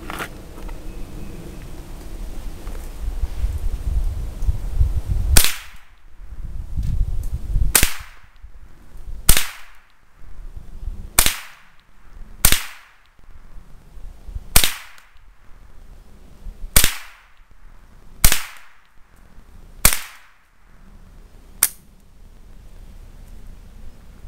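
Savage .22 Model 62/64 semi-automatic rifle firing about ten sharp, cracking shots outdoors at irregular intervals of one to two seconds, loud and close with no talking.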